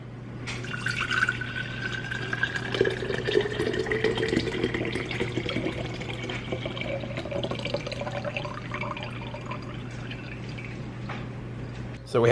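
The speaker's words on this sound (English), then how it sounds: "we're gonna put all the water in here into this empty jar" Water pours from one jar into an empty glass jar in a steady stream, with the pitch rising as the jar fills, close and continuous for about twelve seconds.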